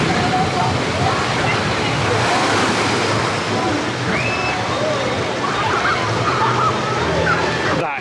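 Heavy water splashing and surging from the Tidal Wave water ride at Thorpe Park, a steady broadband wash of spray and churning water holding constant throughout, with faint crowd voices underneath.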